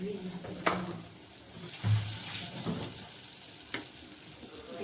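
Chicken cutlets sizzle and fry in very hot oil at home, a steady soft crackle under quiet background talk with a few sharp pops.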